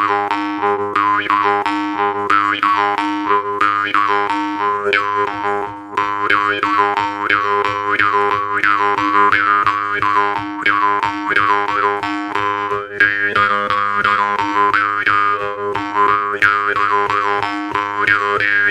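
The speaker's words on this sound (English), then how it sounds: "This is the Moon Morchang." Moon Morchang jaw harp played alone, a steady twangy drone with rapidly shifting overtone melody and regular rhythmic plucks, close and loud throughout.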